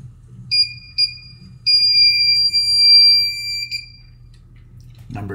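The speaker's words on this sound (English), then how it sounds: "And it will also beep when it finds a proper breaker." A circuit breaker finder beeps as it locates the matching breaker for a 120 VAC outlet circuit: two short beeps followed by a longer sustained tone, loud and close over a low hum, ending with a brief clunk.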